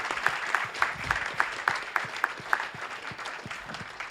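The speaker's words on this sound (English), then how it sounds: "Join me in a round of applause for all of our candidates." Audience applause for political candidates at a Utah convention forum, moderate clapping with distinct individual claps standing out, a small crowd heard close and steady before tapering slightly.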